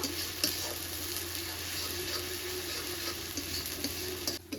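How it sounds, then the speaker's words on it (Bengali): Chopped onion fries in a pan with ginger-garlic paste for an egg curry, giving a steady, moderate sizzle with light ticking stirs, then a brief dip near the end. "আদা রসুন বাটাটা দিয়ে পেঁয়াজের সঙ্গে হালকা করে একটু কষিয়ে নেব"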